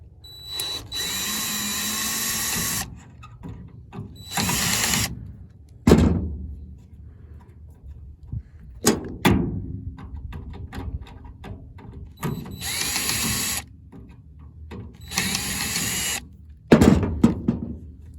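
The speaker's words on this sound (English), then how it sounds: "So first unscrew these screw up top there." A power drill or driver removes screws from the brake light housing on a car tailgate: several sustained whirring bursts of a few seconds each, separated by pauses with clunks and handling knocks, close and loud.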